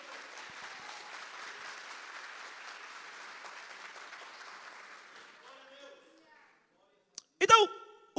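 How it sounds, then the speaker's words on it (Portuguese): A church congregation applauds during a sermon on faith, a soft, steady patter of many hands for about five seconds that thins out and stops, followed by a brief sharp noise near the end. "Tem alguém que pode aplaudir ao Senhor aí?"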